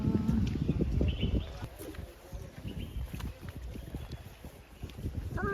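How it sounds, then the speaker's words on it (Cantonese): A dragon boat is paddled on the water at Tai O, Hong Kong, with faint, irregular splashes and knocks heard over wind noise and distant murmuring voices. "真係有人爬船㗎喎"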